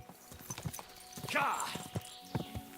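Horse hooves clip-clop at a steady riding pace in the medieval video game Kingdom Come: Deliverance II, close and moderately loud, with someone talking over them.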